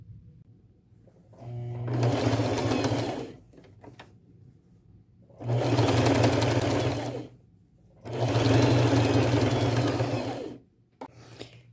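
A sewing machine stitches tassel trim onto a denim vest in three loud, steady runs of a few seconds each, separated by short quiet pauses with faint handling noises.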